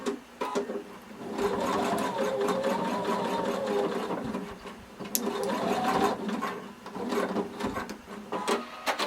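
A sewing machine stitches down elastic on a garment, running in continuous bursts with a steady rattling hum that briefly pauses and restarts, close and fairly loud.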